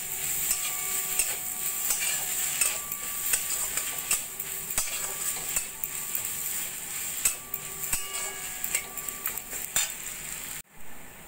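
Grated paneer stirred through spices in a pan for a paneer kachuri filling, with a steady close sizzle and repeated scraping and clinking of a spoon against the pan, unbroken until a brief drop near the end.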